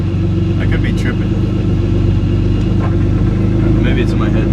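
A BMW E36 with an open downpipe drives along, its engine and exhaust giving a steady, fairly quiet droning rumble that stays loud and close throughout.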